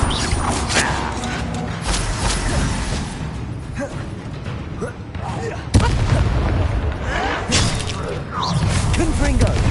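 Repeated booming blasting-spell explosions in the Hogwarts Legacy video game, layered with combat thuds and crashes in a loud, continuous battle mix, with a sharp hit near the middle.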